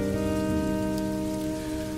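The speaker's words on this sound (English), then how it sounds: "this atmospheric river was starting to come down so heavy" Heavy rain from an atmospheric river storm pounds down while driving, a dense, steady roar of drops on the vehicle that stays loud and unbroken throughout, with no voices.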